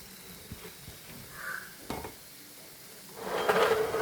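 Papaya pieces tumble into hot oil in a pan with the heat just switched off, giving a few soft clatters followed by a brief rising sizzle and stir near the end.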